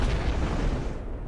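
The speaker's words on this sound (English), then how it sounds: "I can't hear over the fireworks and everything exploding" Dense, loud burst of fireworks and explosions in the mobile game Crossy Road, a continuous booming, crackling roar filling the whole moment.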